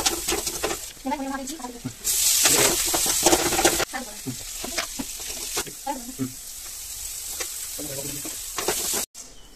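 Tomatoes sautéing in a hot pan for tomato rice, a loud continuous sizzle with stirring scrapes, while a person talks intermittently over the cooking.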